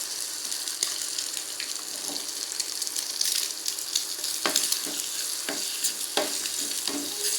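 Three eggs fry in a hot pan, a steady close sizzle broken by regular scraping and tapping of the spatula throughout, with no talk.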